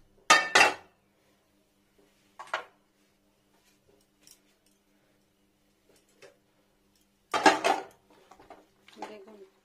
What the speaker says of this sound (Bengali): এটা প্যানটাকে বসিয়ে দিলাম আগে।